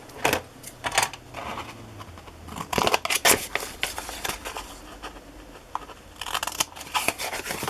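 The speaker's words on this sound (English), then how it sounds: "I'm going to cut a little section out of the middle" Scissors snip through the flap of a paper envelope while preparing glue-book signatures, with a series of close, crisp cuts and rustling paper bursts scattered across the stretch, and no talking.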